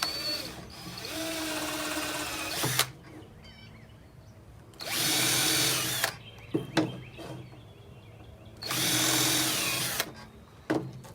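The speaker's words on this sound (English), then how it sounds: "I'm going to go ahead and drill these and get ready to attach it." A power drill bores holes in wood for a bird feeder. It whirs in three separate bursts of a few seconds each, with quieter gaps and small clicks and knocks between them.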